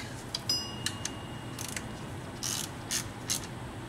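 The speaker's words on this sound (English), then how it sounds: "Now we just gotta torque them down or tighten them up." A torque wrench ratchets and clicks while tightening the power steering pump bolts on a 2012-2015 Honda Pilot, with sharp metallic clicks spaced irregularly over a low background hum, close and fairly crisp.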